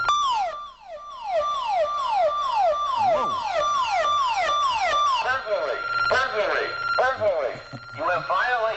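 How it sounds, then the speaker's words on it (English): A burglar alarm siren sweeps downward over and over in rapid repeated wails, loud and close, then shifts to a chaotic warbling pattern near the end. "there's going to be a siren noise going off."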